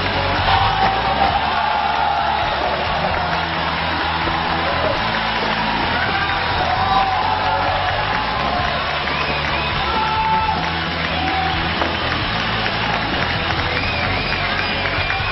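Studio audience on a job-interview game show cheering and applauding: a dense, loud crowd roar with yells and whoops that runs without a break, thick and unbroken throughout.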